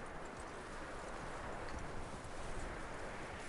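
A horse's hooves clip-clop at a walk in the video game Red Dead Redemption 2, a faint, even rhythm under a steady wash of ambient outdoor noise, with no voices.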